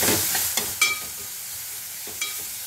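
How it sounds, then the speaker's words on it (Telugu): Onions and coriander fry in oil with a pinch of turmeric, giving a continuous soft sizzle broken by a few scraping stirs, close by with no talking. "కొత్తిమీర ఫ్లేవర్ బాగుంటుంది ఇట్లా ఆయిల్లో మగ్గుతాయి"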